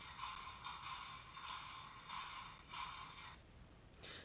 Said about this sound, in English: It's going to do its air compressor cycle.